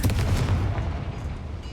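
Confringo fire spell blast in the Hogwarts Legacy video game, a single deep booming explosion that rumbles and fades over under two seconds with no talking.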